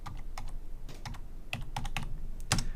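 Keys clatter on a computer keyboard as a code is typed in, a quick irregular run of close, crisp clicks with a couple of louder strikes near the end, no voices.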